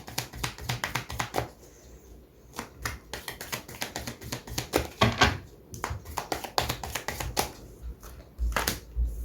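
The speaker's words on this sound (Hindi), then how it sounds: "मैं 3 कार्ड्स बिछाने वाली हूँ" Tarot cards are laid out and shuffled on a table for a reading, giving a run of crisp, close taps and soft slaps in an uneven rhythm with no talk over them.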